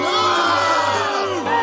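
A large crowd boos and heckles J.D. Vance at a photo op, a loud, dense wall of jeering voices that holds steady for the whole stretch, with a brief dip near the end.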